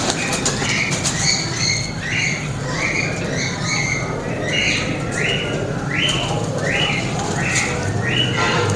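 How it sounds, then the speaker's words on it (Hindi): Pigeons' wings flap in quick, repeated bursts over a busy market background hum, with occasional faint bird calls, steady and fairly close. "ये परवाज़ के वाले कबूतर हैं"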